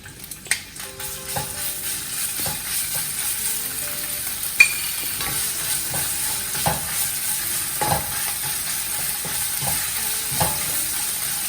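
Ginger and chili paste fry in a tablespoon of hot oil with cumin seeds for bread idli, a loud, even hiss punctuated by regular light spoon taps and scrapes against the pan, close and without voices.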